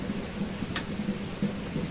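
Steady rain pours down while a sharp crack of thunder breaks through briefly, the rainfall continuing evenly underneath.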